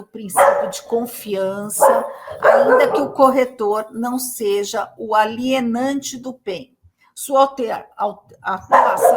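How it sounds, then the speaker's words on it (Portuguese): A dog barks intermittently in the background, mixed under continuous close-up speech from someone talking in Portuguese. "desculpa o cachorro aqui latindo"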